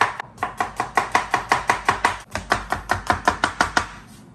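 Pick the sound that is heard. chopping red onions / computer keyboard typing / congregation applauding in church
chopping red onions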